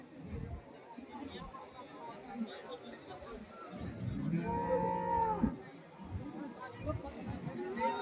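A cow lets out one long moo at a moderate distance, partway through, at a cattle market in Neknur, while people chatter and talk in the background.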